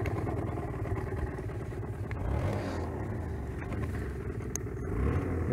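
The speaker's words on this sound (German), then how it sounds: "Aber hört ihr, wie niedrig die Drehzahl einfach ist?" A 2019 Aprilia SR 50 Motard 50cc scooter, cold and Euro 4, idles at very low revs with a steady low rumbling putter, close and continuous, faltering slightly as if about to stall.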